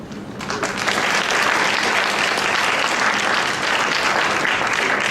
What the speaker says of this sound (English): So, there's a round of applause.